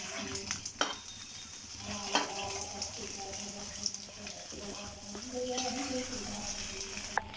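Rava balls drop into a pan of hot oil and fry with a soft, continuous sizzle, mixed with scraping stirs and occasional clinks of utensils against the pan.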